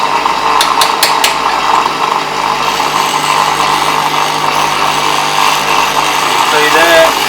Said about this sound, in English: that's how you grind your blade